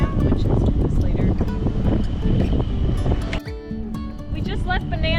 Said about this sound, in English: Wind just picked up, so we're going to see if we could sail.